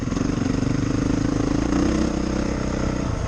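A 2023 Honda CRF450R-S dirt bike engine at IMI Motorsports Park runs with a steady, loud buzzing drone that swells slightly midway, close and continuous without speech.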